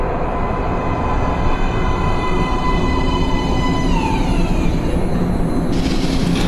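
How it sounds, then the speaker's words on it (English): Metro train pulling into a station platform in the game Metro: Last Light, a loud continuous rumble with a descending whine as the train slows, and a shift in tone near the end. "Please step away from the edge of the platform. Train coming in."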